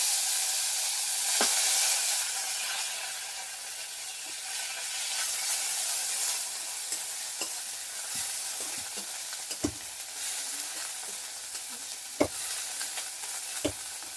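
Onion paste for a Bengali fish curry sizzling in a hot pan, a loud continuous hiss that eases slightly over time, punctuated by scattered clicks and scrapes of a spoon stirring.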